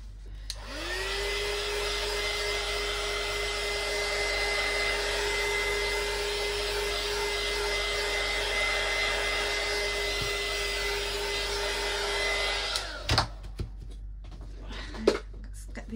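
A hair dryer or heat tool blasts mixed-media deli paper dry, a steady loud whine and airy roar holding for about twelve seconds before switching off, followed by a few faint handling knocks.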